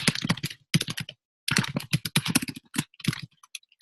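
Quick, irregular bursts of clicking keystrokes on a computer keyboard as a short comment is typed, heard close and clear, with brief pauses between runs and no talking.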